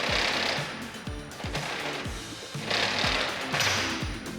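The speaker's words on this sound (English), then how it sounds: "remove the 16-penny nail and allow the door to roll up slowly" Roll-up door rolling up slowly after a retaining nail is pulled, giving a steady rapid clatter of slats and rollers with repeating thumps, close and continuous.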